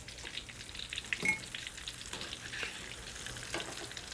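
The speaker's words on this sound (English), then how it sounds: "when you deep fry eggplants in oil or ghee" Eggplant pieces deep frying in hot ghee, a soft, steady bubbling sizzle close by with a few faint clinks and crackles, no one speaking.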